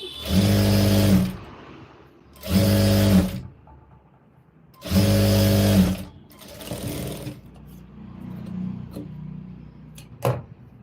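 Sewing machine stitching a hemming belt onto a blouse, three loud motor runs of about a second each, separated by pauses, then quieter handling clicks and fabric shuffling. Close, with no talking.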